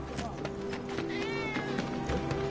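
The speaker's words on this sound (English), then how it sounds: "that was definitely a cat" A cat meows in the Final Fantasy 7 video game, a short wavering mew in the middle of the clip, set against steady game background sound and footstep-like taps.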